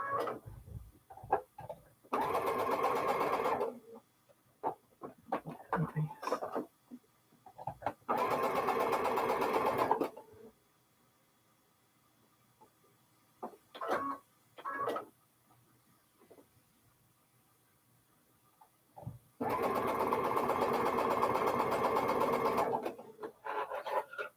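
Sewing machine chain-piecing quilt blocks, running in three steady bursts of a few seconds each, with quiet handling clicks and fabric rustling in the pauses between them.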